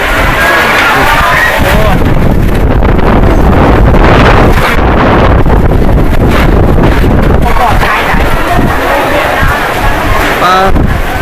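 Strong wind blows across a boat on open water, a loud, continuous roaring buffet mixed with wave wash, with muffled voices occasionally under the noise.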